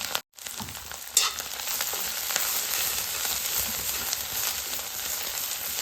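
Ground masala paste goes into a hot tempering of cumin and fried curry leaves over a wood-fired stove. A brief hush gives way to a sharp hit, then a loud, even sizzle continues close by with no voices.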